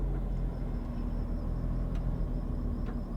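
Low steady engine rumble of an armored custom-built car in the video game Mafia III, droning continuously at an even level with faint ticking accents above.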